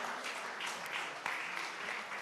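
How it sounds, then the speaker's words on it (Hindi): A crowd at a civic gathering in Faridabad keeps applauding, a continuous even clatter of many hands, fairly distant and soft, with no break. "और लगातार तालियां बजती रहें"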